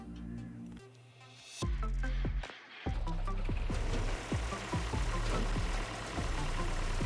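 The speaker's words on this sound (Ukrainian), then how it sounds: "Давайте зараз спробую запустити двигуна" A combine harvester engine in Farming Simulator 22 cranks, cuts briefly, then catches and settles into a loud, steady diesel idle with rhythmic knocking pulses, the earlier running engine droning more quietly before the restart.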